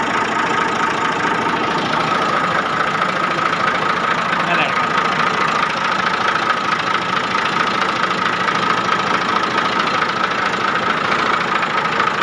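A tractor's diesel engine, just fitted with a newly serviced diesel pump, runs at a steady idle after starting, a loud continuous knocking rumble that holds evenly for the whole stretch with no other sounds rising above it.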